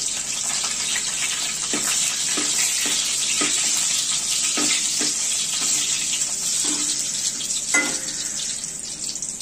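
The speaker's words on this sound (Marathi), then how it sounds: "लसणाच्या पाकळ्या हे आपण टाकल्या, ते लाल होईपर्यंत आपण तेलामध्ये परतून घेणार आहोत" Garlic cloves fry in hot oil for a Malvani alu fatfata, giving a loud, dense, continuous sizzle with a series of regular scraping stir strokes and no voices.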